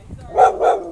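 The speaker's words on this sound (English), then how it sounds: "I got a dog over here" Dog barking outdoors, two quick medium-pitched barks in close succession, near and fairly loud.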